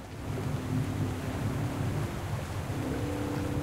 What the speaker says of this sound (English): Look at that freaking waterfall.